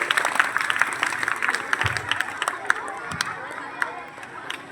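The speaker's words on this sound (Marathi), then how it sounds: "सर्वांनी डोळे उघडा, टाळ्या वाजवा सर्वांनी आपल्यासाठी" An audience at a Brahma Kumaris de-addiction campaign gathering in Antule Nagar, Hingoli, claps together in a dense, steady patter of many hands that fills the room and fades slightly toward the end.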